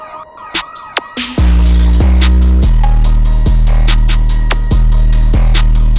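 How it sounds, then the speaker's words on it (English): Loud, steady siren tones over a pulsing electronic beat with sharp percussive hits, sounding like a produced track rather than a real street. "Add in the police sirens."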